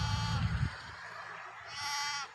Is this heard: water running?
no